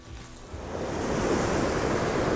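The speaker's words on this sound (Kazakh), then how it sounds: "теңізге де келдік. Теңіздің жағалауына." Sea waves wash steadily onto the shore of a town on the Italy–France border, a broad continuous rush of surf that swells slightly louder partway through, with no voices.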